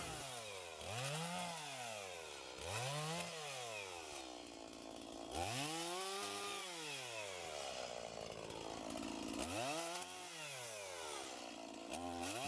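A chainsaw cuts branches off a small tree. The engine revs up and down in repeated rising and falling surges with a raw buzzing snarl, steady and close with no voices.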